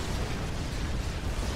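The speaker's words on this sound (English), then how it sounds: "but here comes the comm explosion" A commander unit blowing up in the real-time strategy game Supreme Commander 2 gives a loud, steady rumbling explosion, low and heavy, sustained without a break across the short moment.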